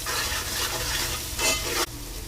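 Onions sautéing in a pan with turmeric, chili powder, salt and freshly pounded ginger-garlic paste, a steady close sizzle with scraping stirs that ends abruptly near the close.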